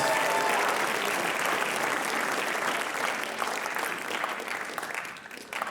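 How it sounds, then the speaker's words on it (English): Audience applause at a writers expo, dense clapping from a crowd that stays steady, then thins and fades toward the end. "Round of applause for our fathers."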